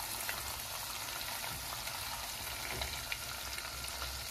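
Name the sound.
tomato paste sizzling while being roasted in a pan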